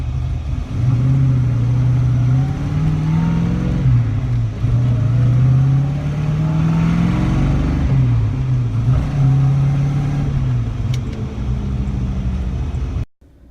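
408 Clevor V8 idling after a cold start, a steady loud rumble with a wavering, lumpy pitch for over twelve seconds before cutting off abruptly.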